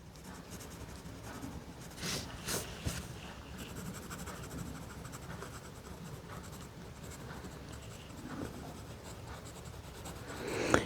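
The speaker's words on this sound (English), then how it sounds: "I just try to guide my pencil around in an area like I think maybe the hairline might go" Pencil sketching a scruffy doodle dog on paper, a steady soft scratching and rubbing that runs unbroken, with a few brief louder strokes.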